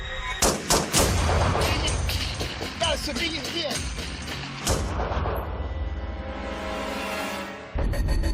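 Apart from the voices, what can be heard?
gunfire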